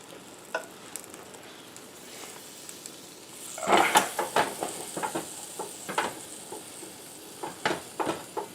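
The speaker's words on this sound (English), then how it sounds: "you can probably hear that starting to sizzle a little bit in there" Beef Wellington sizzling in a waffle iron: steady sizzling with crackling pops that grows louder midway, with occasional brief scrapes or taps, no talking.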